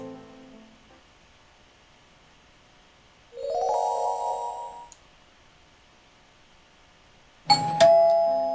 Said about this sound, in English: The doorbell rings again this morning.